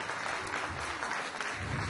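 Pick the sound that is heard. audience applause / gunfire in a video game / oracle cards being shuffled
audience applause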